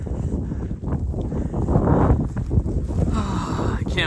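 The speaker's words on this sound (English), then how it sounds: "the wind is blowing west to east" Gusty wind buffeting the microphone while walking in snow, rumbling and roaring in uneven surges, with a voice talking over it.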